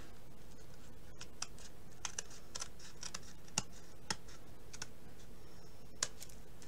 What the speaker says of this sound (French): Avant, on va couper notre ruban. Alors je vais le couper par l'arrière.